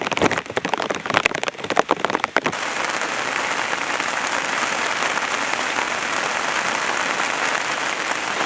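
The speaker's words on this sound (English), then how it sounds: "So it started to rain again, and now it's raining for about 1 hour already." Steady, dense rain hisses on a surface throughout, with a few sharper clattering drops early on before settling into an even downpour.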